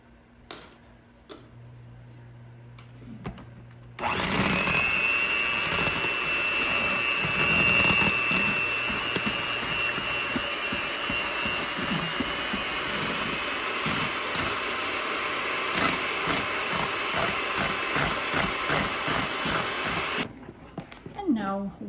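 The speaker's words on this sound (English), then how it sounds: "in the next bowl, I'm going to beat the heavy cream" An electric mixer whirs steadily for about sixteen seconds as it beats heavy cream in a bowl, starting and stopping abruptly with a high whine and a rhythmic ticking of beaters, with a voice talking over it.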